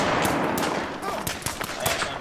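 Gunfire in the military shooter ArmA 3 on Altis: sharp bursts of rapid shots, some close and loud, with voices talking over the shooting.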